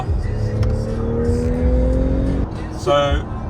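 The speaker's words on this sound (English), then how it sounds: "So this is a tunnel run in my mom's car." Car engine droning steadily at close range inside a tunnel, a low continuous hum with a shifting tone that drops off near the end before a brief swell, with music or voices in the background.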